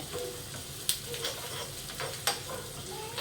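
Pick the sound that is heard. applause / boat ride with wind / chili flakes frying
chili flakes frying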